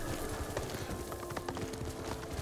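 Horse hooves clip-clop steadily while riding in Ghost of Tsushima, a continuous rhythmic patter of footfalls running under game ambience throughout.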